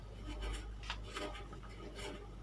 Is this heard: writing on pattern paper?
yes